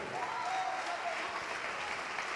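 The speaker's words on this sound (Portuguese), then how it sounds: "vamos aplaudir mais, igreja" Church congregation at a Portuguese-language worship service claps loudly and continuously, a thick even roar of hands with a faint sung or called voice drifting over the first second.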